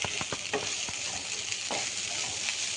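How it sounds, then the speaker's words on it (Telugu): Chicken curry for samosa filling, with fresh coriander just added, sizzles steadily in a hot pan while a spoon scrapes through it in several quick strokes; no voices. "కొత్తిమీర వేసుకున్న వెంటనే దింపేసుకోవడం, మొత్తం కలుపుకొనేసి"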